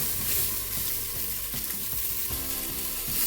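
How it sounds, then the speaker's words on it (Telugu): Eggplant pieces frying and being stirred in a pan, a dense continuous sizzle with soft scraping movements, close and fairly loud throughout. "వంకాయలను కూడా ఫ్రై చేసుకోవాలి."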